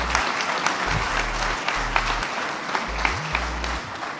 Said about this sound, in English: Please give a big applause to our Chairman